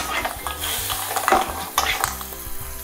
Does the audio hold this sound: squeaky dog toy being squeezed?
no